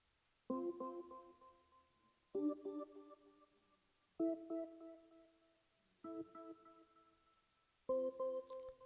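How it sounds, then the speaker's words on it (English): Five sustained synth chords, each struck and left to ring with a soft fading echo, evenly spaced and quiet. "It's a nice quiet echo."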